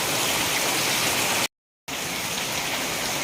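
Floodwater from an overflowing canal rushes in a steady, loud broadband roar during a typhoon with heavy rain, cut by a short silent gap midway before resuming just as strongly.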